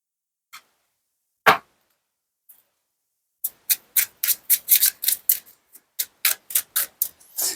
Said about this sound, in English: Going to give it a couple of shuffles here